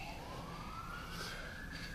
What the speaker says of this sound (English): The ambulance is on the way. You can hear the sirens.